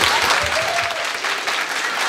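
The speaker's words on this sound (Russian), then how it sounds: "те, что аплодируют предложению «давайте быстрее примем проект»" Applause rolls through a meeting hall as an audience claps together at a public hearing in Krasnoyarsk, dense and continuous, with faint voices underneath.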